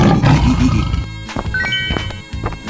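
A cartoon tiger's roar, loud and close, rolling over a busy musical background with bright tonal accents and no voices.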